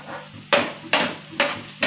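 Spoon stirring upma ingredients with green chillies in a hot pan, four sharp scraping strokes at a steady rhythm over a faint sizzle.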